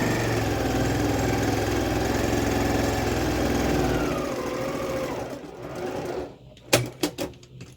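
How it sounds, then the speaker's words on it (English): A sewing machine stitching quilt rows together for a quilted pillow, running in a steady close whir for about five seconds before it winds down and stops, followed by a few sharp clicks. "It's just sewing the rows together."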